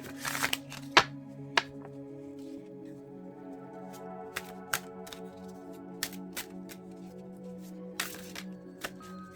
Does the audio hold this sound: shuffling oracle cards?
yes